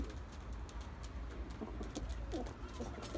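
Pigeons cooing in a loft, soft repeated throaty coos rising and falling over a steady low background hum, moderately distant and fairly quiet.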